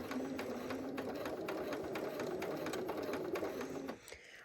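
Sewing machine stitching quilt fabric with a quarter-inch seam, a steady close mechanical whir and rapid needle chatter running continuously before stopping abruptly near the end.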